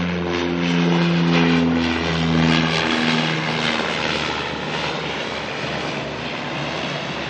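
A Dash 8 turboprop airliner arriving from Nelson lands at Auckland Airport, its loud, steady propeller and engine roar filling the whole stretch with a droning hum that slowly shifts in pitch and eases slightly toward the end.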